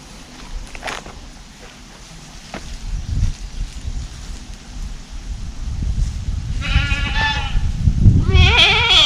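Goats bleat loudly near the end, several wavering calls overlapping, after a stretch of rustling, shuffling farmyard noise.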